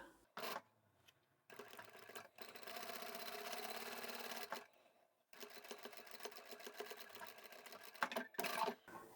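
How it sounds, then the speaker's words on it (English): A sewing machine stitches a fabric shoe storage bag in two fast, steady runs of close mechanical whirring separated by a short pause, with light clicks and handling at the start and end. "So just sew this section here, leave about a hand's width opening for turning through."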